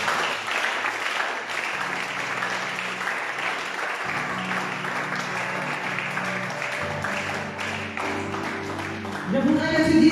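A church congregation applauds the Lord, sustained clapping from a crowd continuing steadily throughout, with low sustained keyboard tones beneath and the applause swelling louder near the end.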